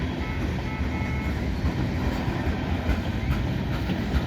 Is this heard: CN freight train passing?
yes